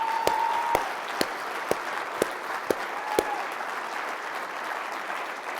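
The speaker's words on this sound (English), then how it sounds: "they would certainly appreciate a round of applause" Steady audience applause at an air traffic controllers' union gathering in Washington, a dense wash of clapping with a few sharp, louder individual claps standing out near the start.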